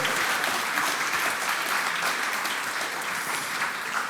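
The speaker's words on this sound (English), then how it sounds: "Give him a bigger applause." Steady, dense applause fills the room from an audience after a startup pitch, even and sustained from start to finish with no talk over it.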